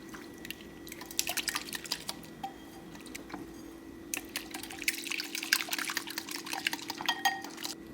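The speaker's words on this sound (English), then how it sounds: "now we're just going to give everything a good whisk and get it all together" A whisk beats an egg mixture with spices in a bowl for French toast, giving quiet, quick clinking and wet sloshing strokes in irregular bursts, close and soft.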